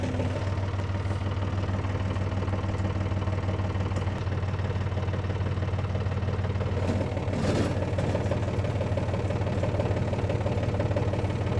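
An engine-powered auger digging fence post holes for a new garden rumbles steadily close by, a constant low droning hum with a brief rougher surge partway through, no talking.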